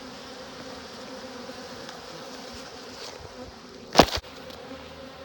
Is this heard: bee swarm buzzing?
yes